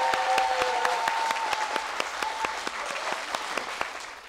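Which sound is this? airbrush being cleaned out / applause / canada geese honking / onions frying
applause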